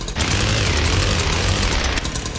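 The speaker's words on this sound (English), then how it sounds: "It actually has to be started up like a real chainsaw." A chainsaw in the video game H3VR runs with a harsh, buzzing, steady drone that stays loud and close for a couple of seconds and then drops slightly at the end.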